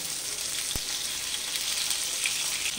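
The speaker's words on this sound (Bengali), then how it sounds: "ভালো করে বেগুনগুলোকে ভেজে নেব।" Eggplant slices frying in oil in a pan, giving a continuous close, even sizzle with a single sharp click early on and no talking.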